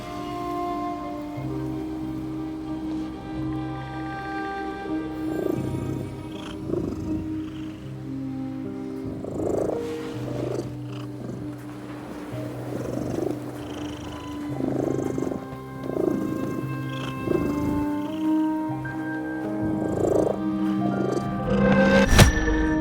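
Cat purring in The Midnight Walk video game, a steady low rumbling purr running throughout beneath layered game music and ambience, moderately loud with no speech.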